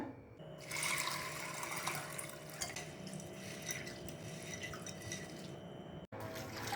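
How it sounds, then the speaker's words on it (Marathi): Water splashes and trickles steadily in a bowl as dried peas are rinsed by hand, with a faint tonal hum running underneath. "2 वेळा पाण्याने स्वच्छ धुवून घ्यायचं आहे आपल्याला"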